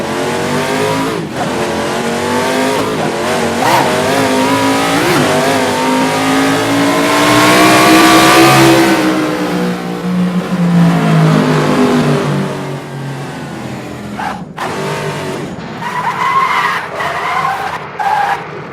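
A car in a racing video game revs hard and slides with long tire squeals, the engine note climbing and falling through gears, loud and up close, with a sharp break near the end before it picks up again.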